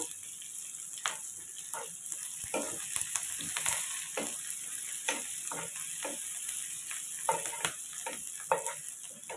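Onions and garlic frying in a pan, soft continuous sizzle broken by frequent light clicks and stirring taps, fairly quiet and without talking.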